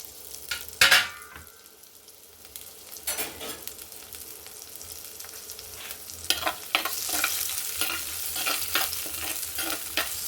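Curry leaves, sliced onion and a single green chilli fry in a pan for a village-style horse gram dish, a steady sizzle building louder with scattered crackles and occasional spoon scrapes against the pan.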